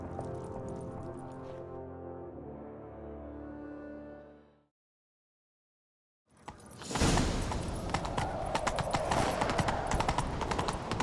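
Galloping horse hooves pounding rapidly and loudly in The Witcher 3, bursting in after a short silence over a dense wash of game noise.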